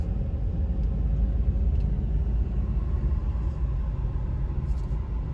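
A car cruising along an American road, heard from inside the cabin, makes a steady low rumble of engine and tyres, constant and even throughout with no talk.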